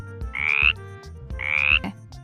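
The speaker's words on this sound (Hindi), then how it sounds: "ये पानी और जमीन दोनों जगह रहता है। ये ऊंची छलांग लगाता है और टर टर की आवाज करता है।" Two loud, close frog croaks, each a rasping call of about half a second, separated by a short pause, with no talking.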